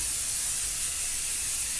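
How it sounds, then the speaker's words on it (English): Spray glue from an aerosol can hissing steadily into a box, a close, continuous burst with no talking over it. "I'm just going to spray into my box again"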